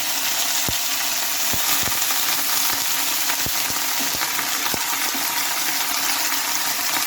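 Shredded cabbage tipped into a pan of lightly fried potatoes for a vegetarian Bengali cabbage dish, setting off a loud, steady sizzle with a few sharp clicks and pops, close up and with no talking.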